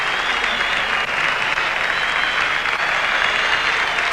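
Rugby stadium crowd at a 1991 All Blacks test match against Pumas B, clapping for an injured player as he leaves the field, a dense, even roar of applause from a large, distant crowd that never lets up.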